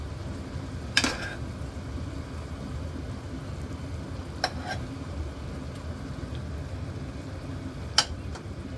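Kamote (sweet potato) chunks fry in a pan with a soft, continuous sizzle, and a few sharp scrapes and clinks from stirring with a utensil cut in.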